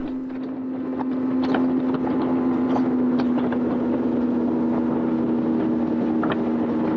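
A high-speed fishing boat's engine drones steadily at speed with a constant hum, wind and water rushing past, and occasional knocks and clatter on board, during a fishing tournament.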